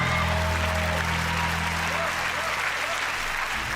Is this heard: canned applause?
yes